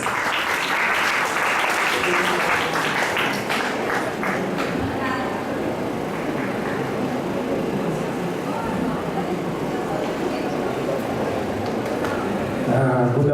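Audience applause at an urban redevelopment conference in Tacloban City, a steady full room of clapping that sustains loudly for the whole stretch, with some voices mixed in underneath.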